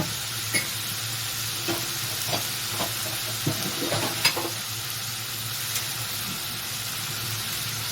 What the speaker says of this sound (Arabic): شايفينها تتشوح كده حبه